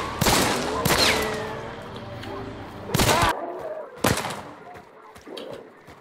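A weapon fires in a video game in a few sharp bursts of gunfire spread across several seconds, with players talking between the shots.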